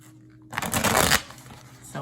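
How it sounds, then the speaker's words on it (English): A deck of cards being shuffled, a quick soft riffling burst of close papery flutter lasting about half a second, preceded and followed by a quiet room hum. "I'm actually gonna shuffle them like this first,"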